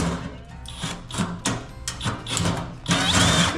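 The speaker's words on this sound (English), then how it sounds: "One arm drilling." Power drill held in one hand boring into metal on a Willys Wagon overlander build, a loud continuous grinding whine that surges and bogs in uneven bursts for several seconds, close up.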